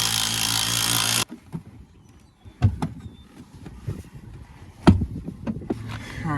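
Nut being tightened on a seatbelt anchor during a bucket seat install in a C6 Corvette: a loud burst of tool noise at the start, then scattered sharp clicks and metallic knocks close by.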